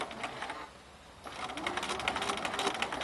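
A sewing machine stitches quilt pieces for a bear paw block at an even stitch length and slow pace, a steady close rattle that pauses briefly before resuming.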